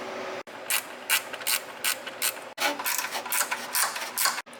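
A hand ratchet with a 10mm socket loosens bolts on a 2006-2011 Honda Civic power steering pump, giving bursts of rapid clicking separated by brief pauses, close and fairly loud.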